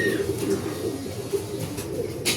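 Racing pigeons coo near a loft during a derby race, soft repeated throaty calls over a constant background hum, with no talking.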